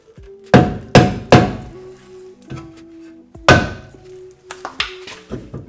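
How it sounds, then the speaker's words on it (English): A rubber mallet strikes the rear brake rotor of a BMW E92 M3 with 38,000 miles and no rust. About eight or nine close, heavy thuds land in uneven bursts, each leaving a brief metallic ring. "A rubber mallet."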